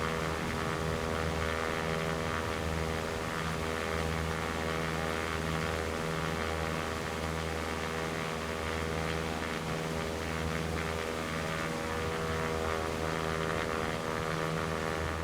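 A flight-simulator airplane engine in X-Plane 11 over the Faroe Islands drones on in a constant, dense tonal hum that holds steady for the whole stretch, close and loud with no talking over it.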